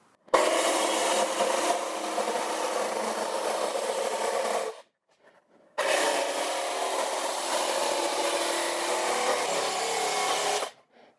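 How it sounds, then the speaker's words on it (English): Hand file deburring the jigsaw-cut edges of a metal bicycle styling part, two long bursts of steady raspy back-and-forth strokes, close and loud, separated by a short pause. "I'll deburr this with a file and try it into place."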